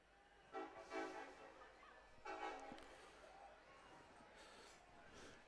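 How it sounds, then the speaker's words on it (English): A freight train passes near an outdoor soccer match between FC Milwaukee Torrent and Des Moines United, sounding its horn in two short toots over steady background noise. "Comes another freight train, get a little toot toot."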